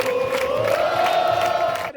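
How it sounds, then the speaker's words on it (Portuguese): Football fans in a stadium crowd celebrate a title win before the final whistle, a loud, sustained roar of cheering and chanting voices rising and swelling together. "antes mesmo de terminar o jogo, a torcida já começou as comemorações."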